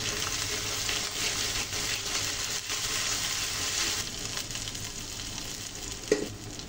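Ground ginger paste with stone-ground cloves, black pepper and cinnamon sizzles loudly in a hot pan for a hilsa and taro curry, a steady frying hiss with stirring and a brief clink near the end.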